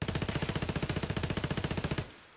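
A full-auto weapon in Escape from Tarkov fires one sustained burst of about two seconds, rapid evenly spaced shots, loud and close, then cuts off abruptly.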